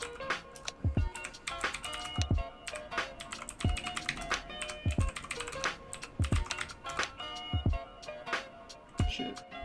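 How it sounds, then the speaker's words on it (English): Rapid, uneven clacking of keys on a computer keyboard, close up and steady for several seconds, with sharper thumps where keys are struck harder and no talking. "Type in the chat."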